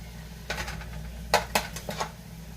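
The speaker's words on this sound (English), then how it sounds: "I also have some red onions left over from last night, so I'm going to toss those in there" Leftover red onions are tossed into a pan for a plant-based breakfast. A few sharp clattering knocks of utensil on pan come in irregular bursts over a low steady hum, with no speech.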